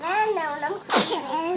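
A child sneezes once, sharply and close by, in the middle of a young girl's speech during play at home.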